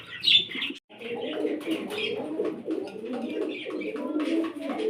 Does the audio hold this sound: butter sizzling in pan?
no